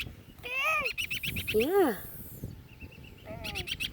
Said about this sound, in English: See that little sound it makes? It's trying to call for its mom.